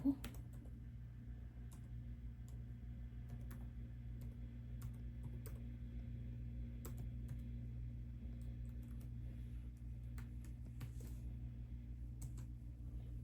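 Quiet, scattered keyboard clicks over a constant low electrical hum, with irregular taps spread throughout.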